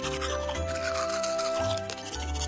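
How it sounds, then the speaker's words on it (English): A toothbrush scrubs teeth in quick rubbing strokes for a few seconds, set against steady sustained tones. "let's brush our teeth"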